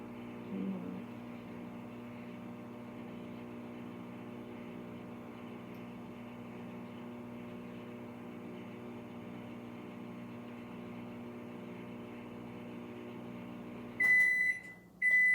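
A microwave oven heats a loaf with a steady low hum and fan drone, running evenly for about fourteen seconds before it stops and a few sharp beeps sound.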